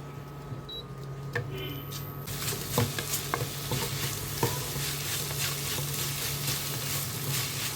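A crab roast sizzles steadily in a hot pan with ground green chilli and garlic while a utensil scrapes and stirs, with occasional clicks of metal against the pan.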